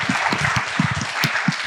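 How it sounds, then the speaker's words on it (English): An audience breaks into steady applause after a panel discussion, with dense clapping continuing throughout, fairly close and without talk. "Can I get a huge round of applause for Trey and Akash?"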